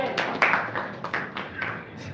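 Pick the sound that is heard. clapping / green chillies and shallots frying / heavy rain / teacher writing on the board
clapping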